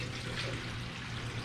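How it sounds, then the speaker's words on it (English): A steady rushing of water being poured into a car radiator pours continuously, close and moderately loud, with no pauses or voices. "it's flowing in there, but it sounds like it's hitting the floor and not the bottom of the radiator"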